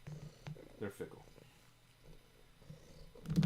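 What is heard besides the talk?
cat purring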